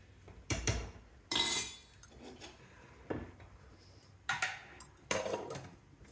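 Dal being stirred in a metal pot, with a handful of distinct scraping and clinking spoon-against-pot strokes spaced irregularly, fairly close and moderately loud.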